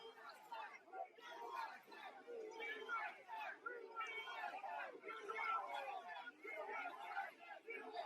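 A large crowd at a rally heading to the Capitol, heard from a distance as a continuous roar of shouting voices and chatter with swelling and falling cries.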